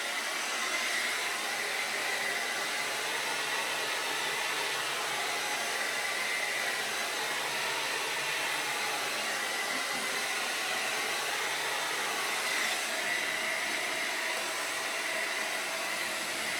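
A hair dryer on its cold setting blows in a steady, unbroken broadband roar up close, with no talk over it.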